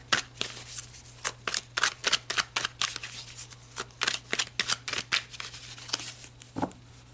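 Tarot cards riffled and shuffled by hand in a quiet room, a steady run of crisp, close flicking bursts in quick rhythm, with a faint low hum underneath.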